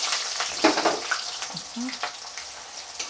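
Chopped onion and crushed garlic dropped into hot oil in a pan, a burst of sizzling and clattering followed by a steady crackling fry at close range.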